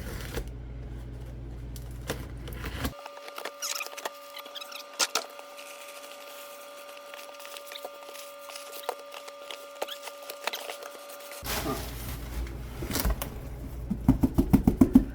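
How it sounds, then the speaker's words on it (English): A package holding engine cylinder heads is unwrapped, with crinkling paper or plastic and tearing rustles at the start and end around a quieter stretch with a steady hum, close and fairly loud. "So let's unwrap this thing and see what we got."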